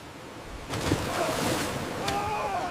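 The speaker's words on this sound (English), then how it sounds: "Look out! Another wave is coming!" Ocean waves surge and crash against a ship in a storm on the Bering Sea, a brief, close rush of churning water and wind.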